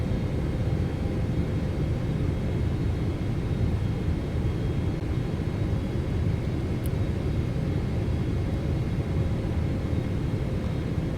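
A Boeing 777-300ER landing into New York JFK in Microsoft Flight Simulator 2024, a steady loud engine and airflow roar throughout, with no talking.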